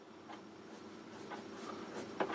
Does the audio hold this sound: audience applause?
no